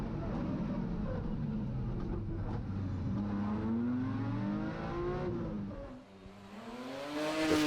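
A BMW rally car races flat out on a stage at Snetterton, its engine note climbing and falling through gear changes as it passes, fairly distant and steady with no talk.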